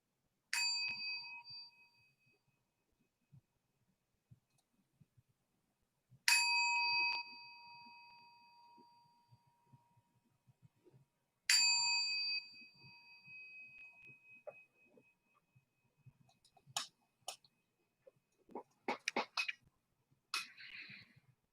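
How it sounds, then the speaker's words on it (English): A meditation bell rings clearly three times at the start of a guided meditation, each strike ringing out and slowly fading into silence, followed by soft breathing and faint rustles. "we'll begin our meditation with 3 sounds of the bell"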